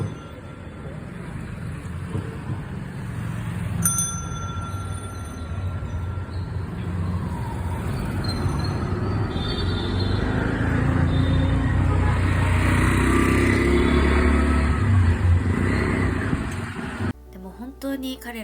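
Street traffic around a cycle rickshaw ride in Bangladesh: a steady wash of engines and road rumble, with horn tones near the start, continuous and fairly loud until it cuts off near the end.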